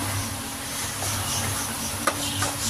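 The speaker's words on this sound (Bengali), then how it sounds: "তো এটাকে ভালো করে লাল করে, যতক্ষণ না লাল হচ্ছে এইভাবে নাড়াচাড়া করতে থাকবো" Onion paste frying in oil and being stirred, a steady close sizzle with a couple of soft scraping taps from the stirring.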